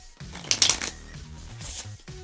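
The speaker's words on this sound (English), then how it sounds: "Shuffle it a couple times." A deck of playing cards being shuffled a couple of times at close range, with brisk riffling bursts and soft shuffling between, quiet and with no talking.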